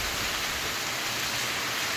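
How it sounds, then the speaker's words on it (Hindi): Heavy monsoon rain pours in a forest as a dense, even hiss that fills the whole moment at a steady loudness, with no voices. "और इस कदर बारिश हो रही है इस जगह, इस जंगल में जहाँ इस वक्त मैं मौजूद हूँ।"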